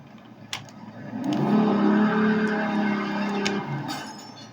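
A car engine revs up into a steady, swelling drone that holds for a couple of seconds before easing off, moderately loud, with a brief click near the start.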